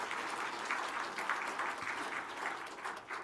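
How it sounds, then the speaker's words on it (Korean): A church congregation applauds during a Sunday service, steady dense clapping from many hands filling the room for the full few seconds, with no other sound standing out. "이 코로나 과정에 힘차게 박수해 주세요."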